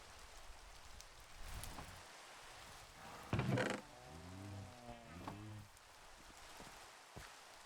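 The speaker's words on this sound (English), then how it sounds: "Let's get this rain out of here." Steady rain hisses across a Minecraft world in the SevTech: Ages of the Sky modpack, with a few brief melodic game tones and soft clicks rising over the constant wash.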